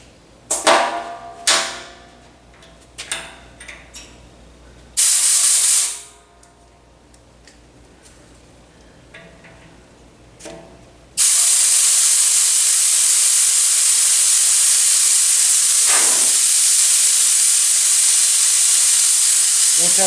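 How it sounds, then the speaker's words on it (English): Compressed air bleeding off from an air compressor tank at about 90 psi: after scattered clicks and handling knocks, a loud, steady hiss starts abruptly halfway through and continues unbroken to the end. "So let's get all the pressure bled off."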